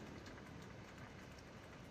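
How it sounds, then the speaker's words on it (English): Steady rain hissing in the Farming Simulator 2017 game, a dense even wash of falling drops with no pauses, faint and continuous. "Oh, there's the rain we've been waiting for."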